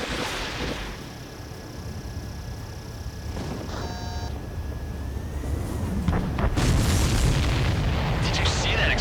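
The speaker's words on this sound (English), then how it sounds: "Did you see that explosion?" An explosion in the Ace Combat 7 flight combat game, a deep rumbling boom swelling over steady jet engine drone and tonal cockpit beeps, growing louder toward the end.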